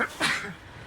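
A single short sneeze-like burst, close to the mic but quiet overall, with a faint breathy sound just after it.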